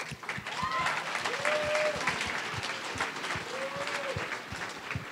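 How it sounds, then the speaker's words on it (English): An audience applauds at the Red Brick Film Festival before its last film, a lively spread of clapping with distinct nearby claps and some voices calling out underneath. "We'll do a round of applause before our last film."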